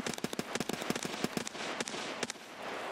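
Rapid bursts of gunfire from Escape from Tarkov on the Customs map, including a PKM machine gun: a dense volley of sharp cracks early on, then scattered single shots and a short burst, loud and close.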